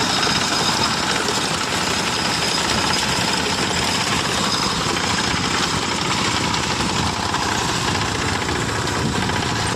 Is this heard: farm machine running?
yes